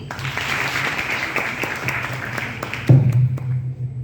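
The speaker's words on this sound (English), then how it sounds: "Clap for Nidhi." A seminar audience at a talk on startup schemes and women's entrepreneurship claps for a participant, a steady mass of clapping with a sharper burst of nearby claps about three seconds in before it tapers off.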